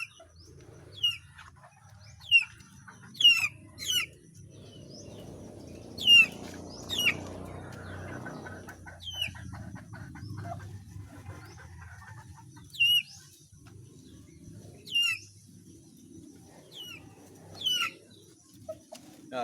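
Young chicks with swollen eyes give high, repeated chirps in short bursts over a quiet background, with a faint low murmur partway through.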